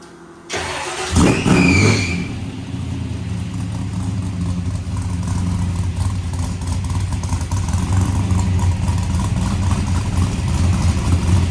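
A nitrous-powered Chevy S10 drag truck engine cranks and fires about a second in, then settles into a loud, steady, rough idle with light revving that continues close up to the end.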